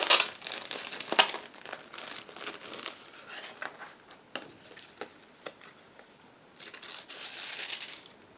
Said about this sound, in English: a separate plastic bag with decal sheet. Just give me a second to open it.